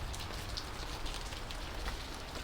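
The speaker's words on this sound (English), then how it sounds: "Look at all the rain pouring off the building." Heavy rain pours steadily off a building during a passing front, a dense, continuous hiss of water splashing at moderate distance, with no voices.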